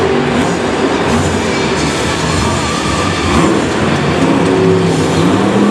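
Monster truck engine roaring at Monster Jam Singapore during a sky wheelie off a jump, a loud sustained wall of engine noise with little variation, mixed with broad arena rumble.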